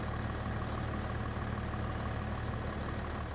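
A tractor engine idles in the Farming Simulator 25 video game, a steady, even low rumble that holds throughout with no change in pace and no voices.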